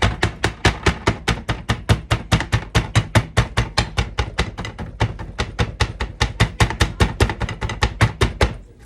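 A steak pounded with a mug on a plate to tenderize it, sounding as a fast, steady run of loud, close thuds, around four to five per second, continuing without talk for several seconds.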